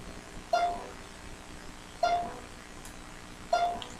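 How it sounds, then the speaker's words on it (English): A self-destruct alarm in Minecraft sounds three evenly spaced electronic beeps about a second and a half apart, quiet over a low background hum. "if you guys can hear that, that is the alarm."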